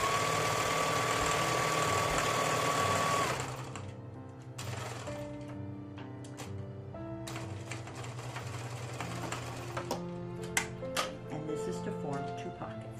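A home sewing machine runs a steady motor whir while stitching a straight line down the center of a drain bag pillow pocket, then stops and leaves scattered light clicks and handling noises, with someone talking over parts of it.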